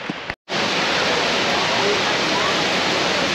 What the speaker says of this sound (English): Waterfall number two of the day. It's the big one.